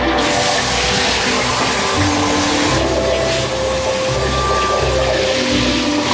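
A water pump drains dirt and debris from the bottom of a tank, running near and loud with a steady whining hum over sloshing, gurgling water that surges and shifts in pitch as it begins to run dry.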